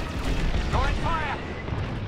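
A starfighter fires a missile in Star Wars: Squadrons, played in VR on an HTC Vive, a steady roaring rush of engine and launch noise that swells briefly near the middle, with a voice faintly mixed in.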